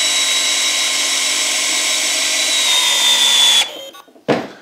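A Festool C18 cordless drill driver on its maximum setting drives an 8mm coach bolt into wood with a loud, steady motor whine that cuts out near the end, followed by a brief knock.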